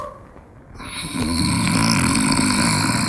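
A man snores in a steady, loud, continuous rumble that swells after a quieter start, close and alone without any voices.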